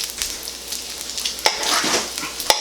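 Eggs being scrambled in hot bacon grease sizzle and crackle in a pan, with a few sharp scrapes of a spatula over the steady hiss, close up and without speech.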